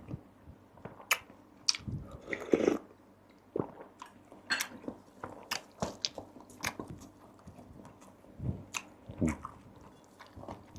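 Crunchy Mon-style fried shrimp-paste chili dip with crisp accompaniments chewed close up, a run of sharp bites and crunches over about ten seconds with no talking.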